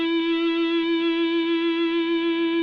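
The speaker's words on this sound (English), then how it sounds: "I've got a ton of gain on this distortion pedal, right? So it sings out." A single sustained electric guitar note through a distortion pedal with heavy gain, ringing steadily with a slight wavering shimmer and no attack heard.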